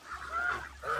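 Pet turkeys call out at feeding time, giving nasal honking cries that rise and fall over about a second against a steady low background hum.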